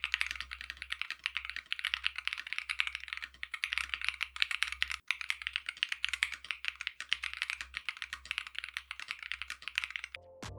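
Steady, rapid typing on a budget gaming keyboard suited to shooters and rhythm games, with close, crisp key clicks running continuously with no voices before a brief cut at the end.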